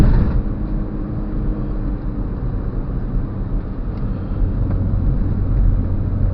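Automatic car engine labouring up a steep hill road at Tanjakan Plangon, a steady low rumble that holds close and even throughout, with no clearly marked gear-change step.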